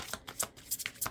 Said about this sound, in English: I'm going to shuffle these near me because they're a little tough to shuffle.